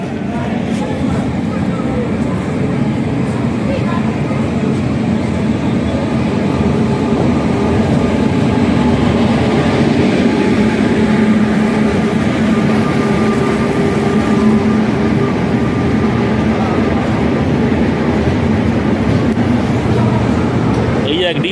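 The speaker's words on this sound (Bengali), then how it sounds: "হাওড়া বড়বিল জনশতাব্দী ঢুকছে, এখন বেরোবে কখন কে জানে।" The Howrah–Barbil Jan Shatabdi Express rolls into a station in a continuous loud, rumbling roar with steady rattling underneath. Someone talks over it throughout.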